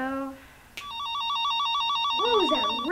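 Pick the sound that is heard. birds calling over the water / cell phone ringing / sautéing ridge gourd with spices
cell phone ringing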